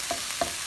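Shrimp fried rice frying in a pan, a soft steady sizzle with two brief stirring scrapes, heard up close and alone.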